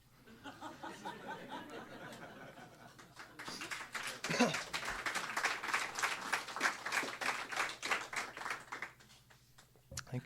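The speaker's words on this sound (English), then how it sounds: "Spontaneous applause." Small pub audience clapping spontaneously after a poetry reading, beginning softly behind a bit of talk and laughter, then swelling into steady applause before stopping abruptly.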